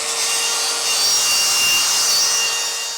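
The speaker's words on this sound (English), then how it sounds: "I'm going to start by grinding off the rust for the area that I'm going to be welding" A grinder runs across a rusty metal I-beam, making a steady, harsh, high abrasive hiss at close range that holds for a few seconds without pause.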